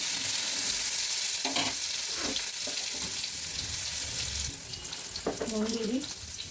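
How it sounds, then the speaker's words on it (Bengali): Black cumin, a chili and tomato fry in hot oil with a bright, hissing sizzle that later quiets, accompanied by clattering stirs and a brief voice near the end. "এই তেলে একটু কালো জিরে দিলাম একটা লঙ্কা আর এই টমেটো দিয়ে দিলাম"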